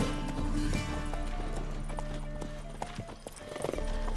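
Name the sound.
horse Roach galloping in video game The Witcher 3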